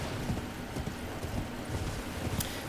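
A horse gallops in the video game Elden Ring, its hooves giving a quick, steady clip-clop rhythm at moderate loudness with no talk over it.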